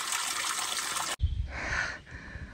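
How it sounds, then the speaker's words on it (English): Water trickles from the spigot of a Boy Scout-built cistern on a hiking trail: a steady hiss cuts off abruptly, then a faint, uneven dribble continues at close range. "Here's another cistern, compliments of the Boy Scouts for water."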